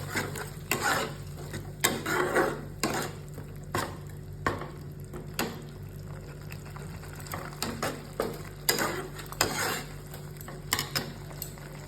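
Ginger, garlic and green chili paste being stirred into a pan, with repeated scraping and stirring strokes and a soft background sizzle, close and fairly loud, no talking.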